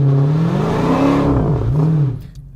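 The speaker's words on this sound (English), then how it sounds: "got to warm the tires up" A Dodge Challenger SRT Hellcat revs hard during a tire warm-up, its loud engine rising, dipping and climbing again in a sustained roar before cutting off abruptly near the end.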